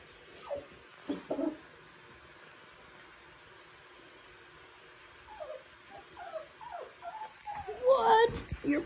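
A five-week-old puppy, one of a litter of nine, whimpers and whines in short, high bursts near the microphone, with quiet gaps between them and more whining toward the end.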